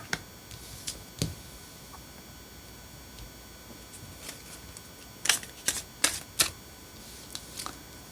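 Tarot cards being shuffled and drawn, heard as sparse dry snaps and flicks, some single and some in quick clusters, close by against a quiet room.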